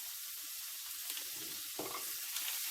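Butter sizzling softly in a hot kadai as it melts for hot and sour chicken soup, a faint continuous hiss with a few small spits and bubbling bursts.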